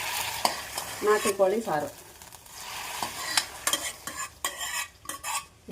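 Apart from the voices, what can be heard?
tempering mustard and curry leaves, stirred into chicken curry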